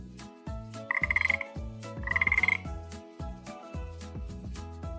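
Frog croaking, with two bursts of rapid pulsed croaks standing out over steady background music.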